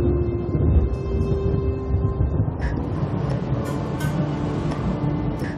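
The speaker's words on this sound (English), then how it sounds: "Thunderstorms are rain showers accompanied by lightning and thunder." Thunder from a thunderstorm rolls as a deep, loud, sustained rumble that fades slowly, with a few faint sharp crackles near the end.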